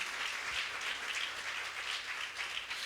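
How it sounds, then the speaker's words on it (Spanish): A church congregation applauds during a Spanish-language sermon, a soft, continuous wash of many hands clapping heard at a distance and fairly faint throughout. "Dale un aplauso al Señor, aleluya."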